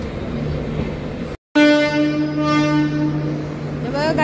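A Ratnagiri–Diva passenger train on the Konkan Railway runs near Ukshi station as an express train crosses. A steady close rumble cuts out briefly, then a long sustained horn sounds over the running noise.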